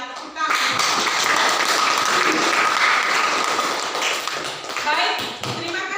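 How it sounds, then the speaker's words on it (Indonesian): A classroom of students claps for a discussion group that has just finished presenting, a dense steady patter of many hands lasting several seconds at close range, with some voices mixed in. "Tepuk tangan."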